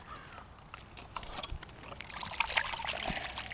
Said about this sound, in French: on va juste aller la rincer